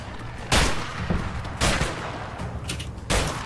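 Sniper gunfire in the video game A Way Out: three sharp, loud shots ring out about a second apart, each with a short echoing tail over low background noise.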